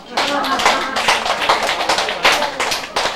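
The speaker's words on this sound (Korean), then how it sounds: "왜 또 박수를 안 칠까?" An audience at a Buddhist sutra lecture claps in loud, uneven bursts of hand claps close by, the rhythm rising and falling over a few seconds.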